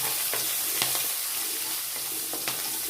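Curry leaves and green chilies crackle and sizzle in hot oil for a Rajasthani dal, a steady close frying hiss broken by sharp pops and spits, with no talking.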